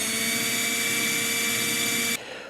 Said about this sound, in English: drill the 4 pilot holes